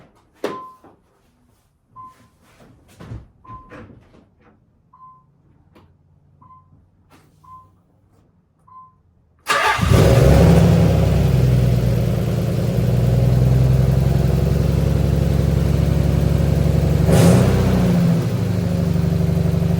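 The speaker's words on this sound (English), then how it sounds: "So it seems to be idling pretty well now." A Nissan 300ZX engine cranks and catches after several seconds of quiet clicks and ticks, then settles into a loud, steady idle with a brief rev partway through.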